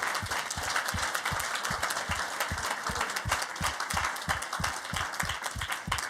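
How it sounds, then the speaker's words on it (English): Sustained audience applause at a rural-policy conference, dense steady clapping from a large room with a faint regular low thump running through it, no voices. "A big applause for the good work all these years."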